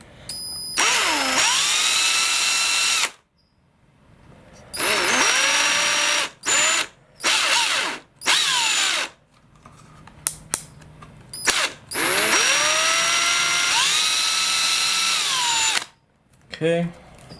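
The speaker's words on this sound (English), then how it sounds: "You could drill these holes based on the size of the screws you're going to be using." A power drill fitted with a 2mm bit bores holes during servo installation on a Samba Prestige F5J V-tail glider, running in repeated loud close bursts with short pauses and quick speed changes between them.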